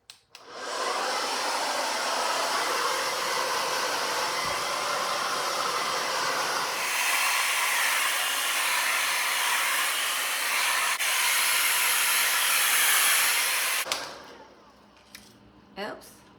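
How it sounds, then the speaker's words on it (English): A Paul Mitchell hair dryer blows loudly and close for about thirteen seconds during a haircut with a round brush, its roar shifting pitch partway through before cutting off, followed by faint handling noises. "So I got my Paul Mitchell hair dryer, my Olivia Garden round brush."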